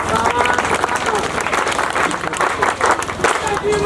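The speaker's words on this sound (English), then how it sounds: "we must give a special clap to our government" An audience at a school dormitory handover ceremony claps together in a sustained round of applause, a dense patter of many hands filling the space with a crowd murmur underneath.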